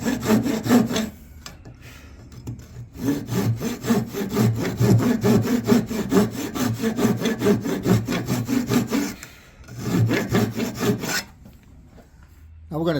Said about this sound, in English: I'm just going to use the keyhole saw that we sharpened a little bit ago. I'm going to cut down to my line